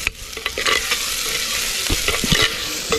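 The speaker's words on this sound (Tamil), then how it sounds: "இப்போ வெங்காயம் இப்போ பச்சை மிளகாய் வதங்கிருச்சு" Chopped onion and green chili sauté in hot oil in a clay pot. A close, continuous sizzle is broken by scraping, clattering stirs, and no one speaks.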